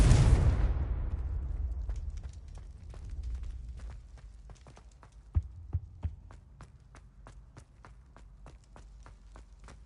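A Confringo fire spell explodes in Hogwarts Legacy, opening with a loud booming blast that decays into a long rumbling tail, followed by a steady series of faint ticking taps and a few thuds.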